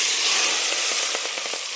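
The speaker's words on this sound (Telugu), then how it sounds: "అది వేగింది, మిక్సీ పట్టేసుకున్న పాలకూర వేసుకున్నాం." Blended spinach paste fries in a pan with a steady, close hiss and crackle, a few soft pops rising toward the end.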